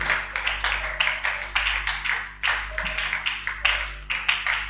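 A church congregation applauding the Lord, rhythmic clapping in repeated bursts, fairly close and steady, with a low hum beneath.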